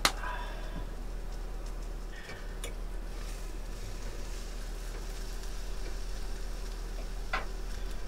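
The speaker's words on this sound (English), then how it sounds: "the steak's cooking up good" Steak cooking on a Mr. Heater outdoors, a constant low hiss and faint sizzle with occasional small ticks and pops, steady throughout with no one speaking.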